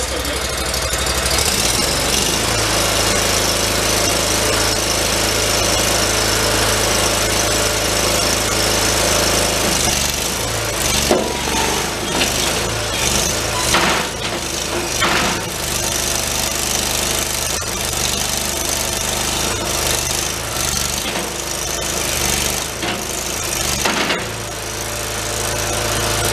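The diesel engine of a Terramite compact backhoe idles steadily and loudly close by, with a rough knocking rumble after an engine rebuild following a thrown rod; there are a few brief mechanical clanks and no speech.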